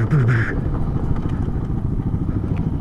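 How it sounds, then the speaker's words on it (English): Motorcycle ridden along a winding California mountain road known as the Snake, its engine droning steadily and loud with wind rush throughout, a short tonal rev at the start. "This bike's fun."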